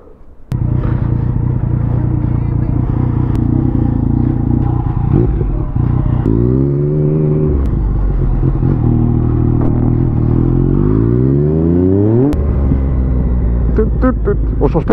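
Motorbike riding on the road on a cloudy day, its engine a steady loud drone with a few rising and falling revs as it shifts gears, worn shock absorbers adding rattle, with a rider talking over it.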